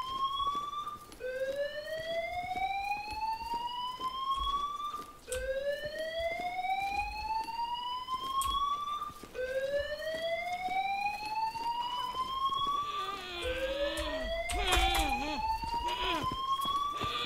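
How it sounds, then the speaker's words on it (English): A house alarm in the Jaws of Extinction video game wails in repeated rising sweeps, each climbing for about four seconds before resetting, loud and continuous, with a few brief noisy bursts near the end. "Alarms. Houses and their danged alarms."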